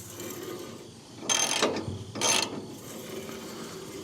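Ratcheting clicks come from tightening the blade tension on a Mechmaxx 36 sawmill, two short bursts of mechanical clicking close by over a quiet background.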